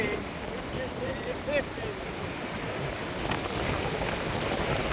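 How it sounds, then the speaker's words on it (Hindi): Ocean waves at Digha Beach in West Bengal at night wash in as a steady, dense roar of surf close by, filling the whole stretch with constant noise. "इधर देखिए लहरें चल रही है ज़बरदस्त तरीके से"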